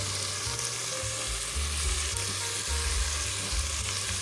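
Flour being stirred into a pot of beef stew as it sizzles, a steady frying hiss with repeated low scraping strokes of the spoon throughout.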